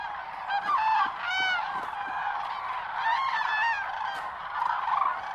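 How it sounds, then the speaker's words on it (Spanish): Cranes and swans calling at dawn on the mating grounds of Lake Hornborga, a chorus of repeated honking, trumpeting calls over a steady background of distant birds. "Las praderas que bordean el lago Hornborga ofrecen a las grullas y a los cisnes un escenario excepcional."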